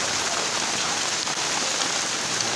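Hail falls on Murree road in Pakistan, a dense, steady hiss of many small impacts on the surface, continuous and close throughout with no voices.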